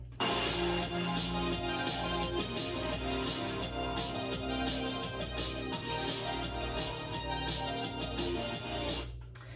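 A recorded pop song plays at a moderate level with a steady, regular beat, continuous and without talk, then cuts off abruptly near the end.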